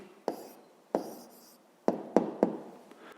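Pen strokes on paper as a maths answer is written down by hand: a few short scratchy bursts separated by pauses, close and quiet, with no talking.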